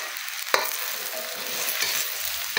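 Chop suey vegetables, green beans and carrots, stir-fried in a hot pan: a steady loud sizzle with a sharp utensil scrape just past the half-second mark and more stirring at the end.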